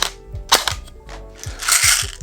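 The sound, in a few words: LCT AK-12 airsoft rifle firing semi-auto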